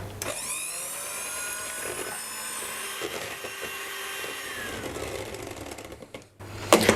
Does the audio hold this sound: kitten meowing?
no